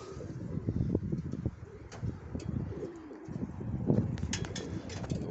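Pigeons at a backyard loft coo repeatedly, with occasional bursts of wing flapping and faint chirps mixed in, moderately close, no talking.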